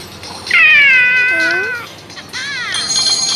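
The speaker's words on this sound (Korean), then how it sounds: "옆에 귀여운 고양이가 있고" A cat meows loudly and close by in two drawn-out, wavering calls with a short pause between them, set against a low steady background.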